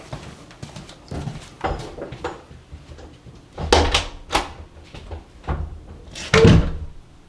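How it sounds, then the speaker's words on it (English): A door closing in a room fitted with a QuietCool ZAP sound-absorbing air grille: a series of dull knocks and thuds, the two loudest coming midway and near the end, with quieter rattles between. "Now watch this door."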